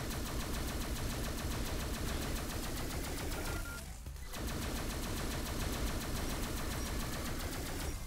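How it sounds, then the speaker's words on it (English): Rapid overlapping grenade blasts in the Neon Chrome top-down shooter game, a dense continuous barrage of loud bursts with a brief dip midway before the explosions resume. "It's a lot of grenades."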